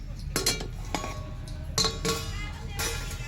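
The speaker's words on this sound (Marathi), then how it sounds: "हे झाकण मी काढते बघा." A metal lid comes off a pot of cooking mutton with a few sharp clinks and scrapes, close and moderately loud, set against quiet kitchen background with brief faint talk.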